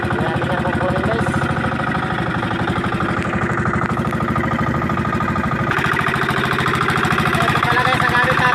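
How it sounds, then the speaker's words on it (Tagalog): Diesel motor running steadily at close range, a rapid rhythmic chugging pulse that continues unbroken throughout, loud and alone. "Ito pala guys ang gamit natin na makina. Ito din si motor siya. Diesel."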